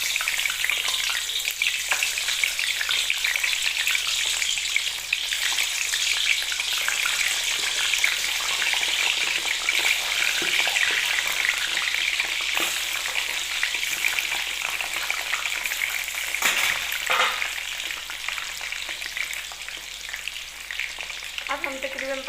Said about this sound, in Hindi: अब हम तकरीबन 15 मिनट तक इसे इस कढ़ाई में छोड़ देंगे ताकि अच्छी तरह फ्राई हो जाए